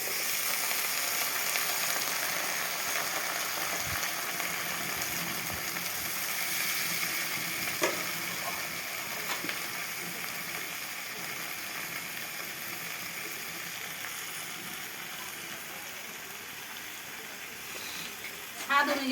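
Chopped vegetables poured into a pan of browned onions fry with a steady, fairly quiet sizzle, with occasional stirring clicks and a brief louder clatter near the end.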